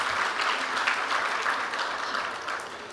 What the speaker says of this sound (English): Let us have a big round of applause for Ms.